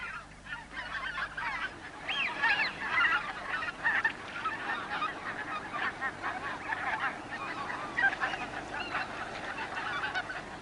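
A large flock of white-fronted geese honking continuously at a distance, many overlapping calls forming a steady, busy chorus.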